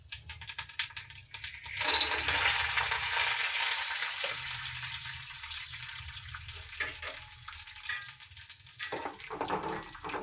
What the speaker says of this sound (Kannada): ಈಗ ಎಣ್ಣೆ ಬಿಸಿಯಾಗಿದೆ ಸಾಸಿವೆ ಜೀರಿಗೆ ಹಾಕಿದ್ದೀನಿ ಹಾಗೆ ಶೇಂಗಾ ಬೀಜ ಕಡಲೆಬೇಳೆ ಹಾಕ್ಕೊಳ್ತಾ ಇದ್ದೀನಿ